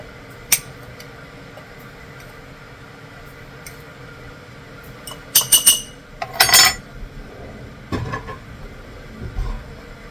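Salt spooned half a teaspoon at a time into glass canning jars for home-canned baked beans: scattered light glassy clinks and taps, with a quick cluster of louder chinks near the middle, close and otherwise quiet.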